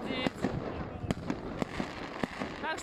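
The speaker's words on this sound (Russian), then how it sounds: "Какой длительный салют" Fireworks pop and crackle at irregular intervals a little way off during a long New Year display, sharp bursts over a continuous background hiss.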